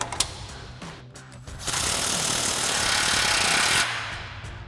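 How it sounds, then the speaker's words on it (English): An impact wrench with a 19 mm socket tightens a bolt on a truck lift install, firing a loud sustained rattling hammer burst of about two seconds after a few short taps. "we'll go ahead and tighten it back down with our 19 mil socket on our impact"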